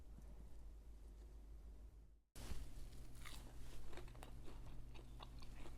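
Crispy zucchini fritters bitten and chewed close up, a run of dense crunchy bites and chewing after a brief silent gap, steady and fairly loud throughout.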